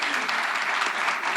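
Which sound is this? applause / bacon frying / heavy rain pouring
applause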